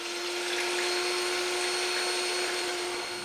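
An electric hand mixer whirs steadily at high speed while beating egg whites with sugar, a constant loud whine with no pauses and no talk.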